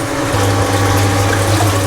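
Cold water feed fills a heating system during a powerflush, a steady loud rush of flowing water mixed with a low pump hum and mechanical whir, continuous throughout.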